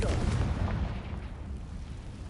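A Confringo explosive spell cast in the video game Hogwarts Legacy, a loud, rumbling boom that swells at the start and then decays into a long, heavy low rumble.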